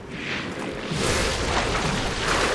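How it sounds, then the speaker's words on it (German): An enemy explodes in the action game Lies of P on PS5, a loud, sustained roaring blast with a dense, rumbling burst that fills the whole moment with no voices. "Ich hab's einfach nicht hinbekommen, mir zu merken, dass die Typen explodieren"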